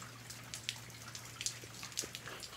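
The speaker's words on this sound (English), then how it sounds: "Told y'all it was gonna rain today." Rain falling outside on a rainy day in Georgia, a quiet scattered patter of drops and light drips over a steady low background hum, with no talking.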